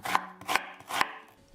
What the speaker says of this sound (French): Vous voyez, je coupe en suivant la direction de la fibre.